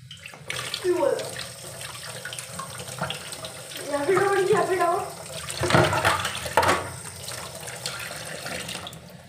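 Tap water runs into a kitchen sink while dishes are washed, a steady splashing stream with clinks and bursts of louder water, under a voice talking at times.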